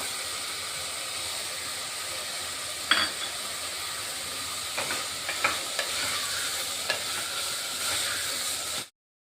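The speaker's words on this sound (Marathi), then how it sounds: "टोमॅटो टाकून घेतोय आता मस्त परतून घ्यायचं" Tomatoes frying in a pan for khichdi make a constant hissing sizzle, with scattered light stirring scrapes and taps, before the sound cuts off abruptly near the end.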